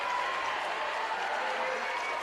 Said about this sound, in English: Western Christian crowd trying to get back on their feet and fire up their team